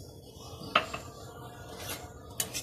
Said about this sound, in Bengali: এবার আমি সুজিটা এর মধ্যে দিয়ে দেবো।